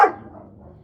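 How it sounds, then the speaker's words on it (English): A single loud dog bark bursts out at the start, then trails off into a quieter murmur of background noise; no one speaks. "Fucking loud dog."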